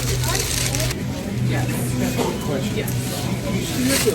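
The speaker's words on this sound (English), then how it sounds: "Plastic bag." A plastic bag crinkles and rustles continuously up close at a juice and produce stand, its crisp crackle running under people chatting nearby.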